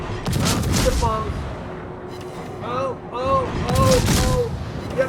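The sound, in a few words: bombs exploding in a naval video game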